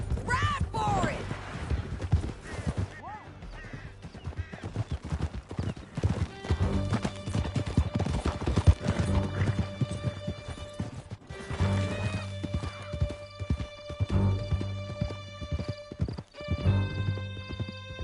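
Horses galloping in the Red Dead Redemption 2 video game, steady rapid hoofbeats running throughout with whinnies, crashes and shouting voices over a musical score.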